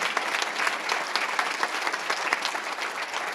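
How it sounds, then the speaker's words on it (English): Applause fills a hall at a local citizen-of-the-year awards ceremony: dense, steady clapping from a sizable audience that holds even throughout, without cheering. "Giving a big round of applause"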